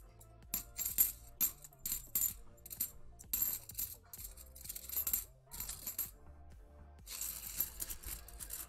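Coins from a roll clack and jingle together in the hands, with repeated bright metallic clattering bursts in an uneven rhythm, close and fairly quiet with no talk.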